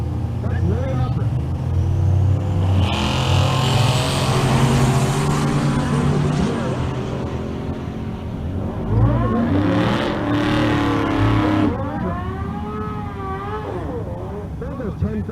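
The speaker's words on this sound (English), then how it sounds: "Second gen Camaro in the left lane" A second-generation Chevrolet Camaro drag races at a Kearney, Nebraska event, its engine roaring loud and revving hard with rising pitch sweeps, while an announcer talks over the noise throughout.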